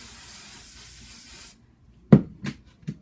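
A sustained hairspray hisses onto a wig for about a second and a half, then stops, followed by a few soft rustling brushes close by.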